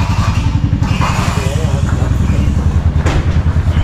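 A motorcycle engine runs close by with a steady, throbbing idle that stays loud throughout, while people talk over it.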